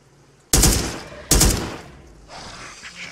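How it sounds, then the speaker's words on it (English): Enemy gunfire in the VR shooter Immortal Legacy: The Jade Cipher: two loud, close bursts of rapid shots, each cutting off into a reverberant tail, followed by a softer hiss. "Oh crap, this one's shooting at me."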